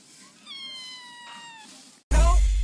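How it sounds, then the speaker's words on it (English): A kitten meows in one drawn-out, high, wavering call, fairly clear and close, then a loud burst of noisy handling or rustling cuts in at the end. "Ella, what does the kitten say?"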